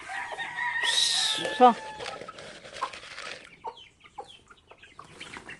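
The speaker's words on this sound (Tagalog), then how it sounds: "yung mga manok mo" Chickens on a backyard farm, including a hen, cluck and squawk loudly up close, with a sharp burst near the start. Quieter scattered clucks and rustling follow, and a person speaks briefly.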